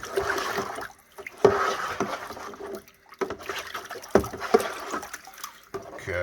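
Warm water is poured and sloshed into a dump can during cleaning, with splashes and gurgling surges that come in bursts, plus clunks from handling the container.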